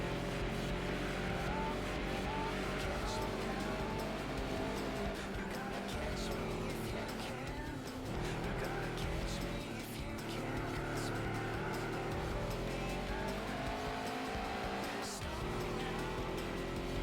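Griffith race car in Gran Turismo 4, engine revving and shifting under steady acceleration, with brief tire squeals and scattered talk over the continuous drone.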